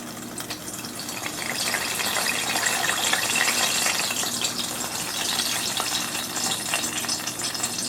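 Hot infused dandelion oil sizzles and crackles steadily as it is poured through a strainer, a dense, continuous frying hiss with fine pops, fairly close and without talk.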